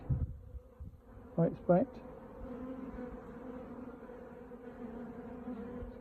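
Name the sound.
honey bees buzzing at hive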